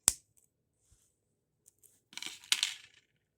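Scissors snipping ribbon-like wrap material close up, one crisp click at the start, then near silence, then a short rasping cut with a second sharp snip.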